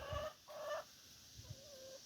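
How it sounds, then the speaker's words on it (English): Backyard chickens clucking outdoors near a coop in a ravine, giving a few short, moderately close calls and drawn-out clucks over steady background hiss. "And there's my chickens."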